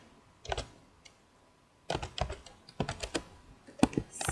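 Computer keyboard typing for entering statements into a two-column geometry proof table: a short burst of keystrokes, a pause, then a denser run of quick, uneven clicks, close and fairly quiet, with no talking.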